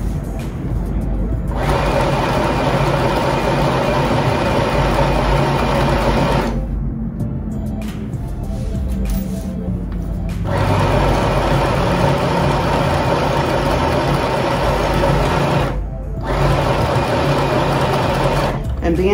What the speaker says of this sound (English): So right now I am sewing. I am sewing right now.